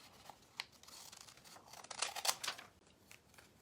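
Scissors cutting through folded vintage paper to shape a heart pendant, several close crisp snips and slicing crunches, quiet at first and then a louder cluster of cuts, no talk.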